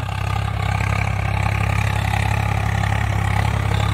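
A Swaraj 855 tractor engine runs steadily close by in a rice paddy field, a loud, even, low throbbing drone with no change in pace and no talking.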